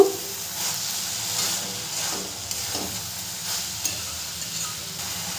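Banana flower curry with ghee being stirred in a pan, a soft steady sizzle and hiss with gentle scraping strokes, close and alone with no talk.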